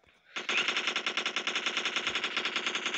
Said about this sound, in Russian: Ну все, я пока нормально стреляю.